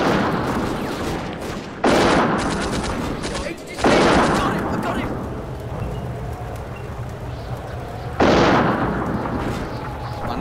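Gunfire and explosive blasts in the WWII war game Combat Mission: Afrika Korps, set in East Africa, with loud booming impacts spaced a few seconds apart over a dense, continuous rumble of battle noise.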